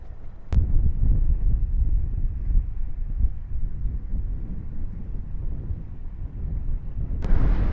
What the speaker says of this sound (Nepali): यस्तो खतरा हावा चलेछ यार